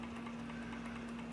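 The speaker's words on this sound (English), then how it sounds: "It's a beautiful model of a Stirling engine" A small 11-inch model Stirling engine fueled by 190-proof grain alcohol runs with a quiet, steady hum and a constant low tone, faint and close, with no talking.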